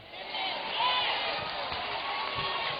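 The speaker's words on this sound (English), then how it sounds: "Here's some people booing." Crowd booing: a sustained, muffled mass of many voices, moderately loud and steady with a brief swell, heard through a thin, low-fidelity recording.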